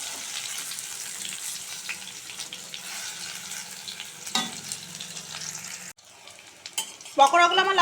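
Cauliflower pakoras crackle in hot oil with a steady bubbling sizzle, then a sudden drop in level and a few sharper clatters and scrapes as pieces are moved near the end.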